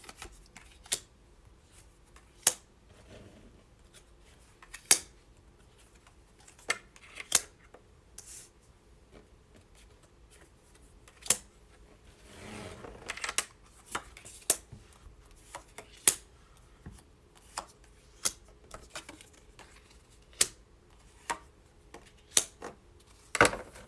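A vice versa card deck being handled, with sharp isolated snaps and clicks of cards scattered over a quiet background and a brief riffling flutter in the middle, no talk.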